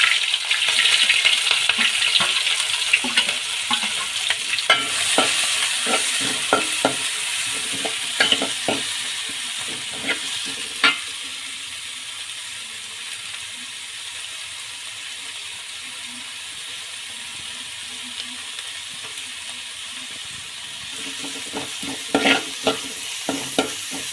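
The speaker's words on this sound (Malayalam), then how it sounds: "അരിഞ്ഞ് വെച്ചിരിക്കുന്ന സവോളയും പച്ചമുളകും ഇതിൻ്റെ അകത്തിട്ട് ഒന്ന് മൂപ്പിച്ചെടുക്കും." Chopped onion and green chili sizzle steadily in hot oil in a pan for a drumstick-leaf thoran, with a constant frying hiss broken by scraping, clinking stirs of a spoon against the pan, close and fairly loud, no talking.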